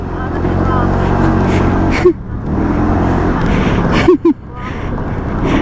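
A motorcycle rides a rough, wet road on a northern Philippine loop, its steady engine drone loud and close with wind rush, broken by a couple of short vocal sounds.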